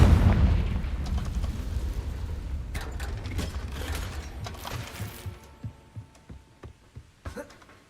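A Confringo blasting spell explodes in Hogwarts Legacy: a loud booming blast at the start that rumbles and decays, followed by scattered thuds and a series of fading rhythmic impacts.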